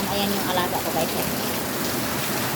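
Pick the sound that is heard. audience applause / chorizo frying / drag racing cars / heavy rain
heavy rain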